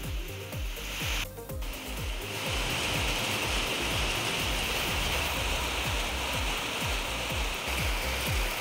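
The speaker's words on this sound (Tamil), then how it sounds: "சுமார் 2 மணி நேரத்திற்கு மேலாக கனமழை பெய்தது" Heavy rain pours steadily for hours over Puducherry during a thunderstorm, a dense continuous hiss of drops on surfaces with low rumbling gusts, loud and close, with no voices.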